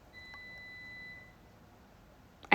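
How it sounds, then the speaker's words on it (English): A home dishwasher sounds a steady electronic beep tone lasting about a second, faint and alone in a quiet kitchen, followed by a brief click at the end. "That's my dishwasher beeping in the background"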